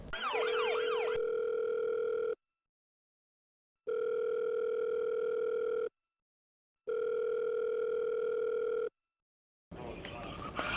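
A steady electronic calling tone from a phone dialing out sounds in three evenly spaced beeps with silent gaps between, after a brief burst of warbling tones and followed by noise.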